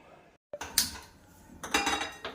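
A cooking pan is set down on a stovetop while making aloo dum masala, giving a few close metallic clanks and scrapes around a brief pause, with no talking.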